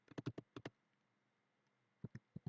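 Quick keyboard key clicks, a burst of about seven fast taps followed by a pause and then four more spaced presses, including Alt and Print Screen for a screen capture, quiet and close.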